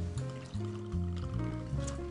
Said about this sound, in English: I'm like sitting there pouring in the glass, and he starts pouring the bottle.